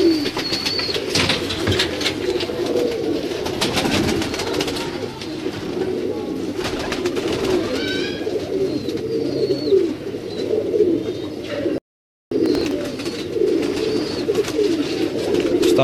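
Pigeons coo steadily on a Lahore rooftop, a dense, continuous chorus of low throaty calls close by, with a few brief chirps and a short dropout near the end.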